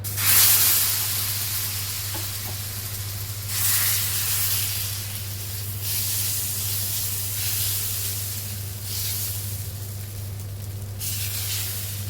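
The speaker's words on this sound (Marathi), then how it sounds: "आपण आता डोसा टाकून घेऊया।" Steady hiss and sizzle of dosa batter cooking on a hot iron griddle, swelling in waves over several seconds, close and continuous.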